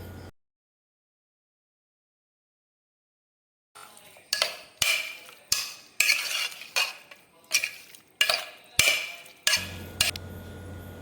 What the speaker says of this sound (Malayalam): കുക്കറിലേക്ക് 1/2 കിലോ പോത്തിറച്ചിയും 1/2 ടീസ്പൂൺ ഉപ്പും 1/2 ടീസ്പൂൺ മഞ്ഞൾപ്പൊടിയും 1 ടീസ്പൂൺ കുരുമുളക് പൊടിയും ചേർത്ത് മിക്സ് ചെയ്ത് കൊടുക്കാം